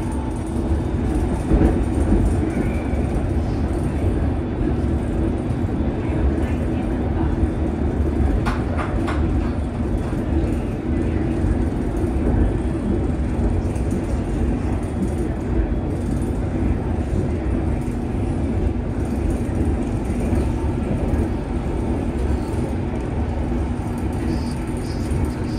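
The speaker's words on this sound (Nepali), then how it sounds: "ल अब ट्रेनभित्र गयौँ है त" Inside a passenger train riding from London out to the village of Chesham, a steady low rumble and rolling hum fill the cabin throughout, with faint occasional clicks over the constant drone.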